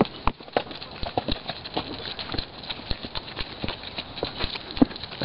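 Horse hooves clip-clop in an uneven walking rhythm, close and fairly loud, over a light outdoor desert background.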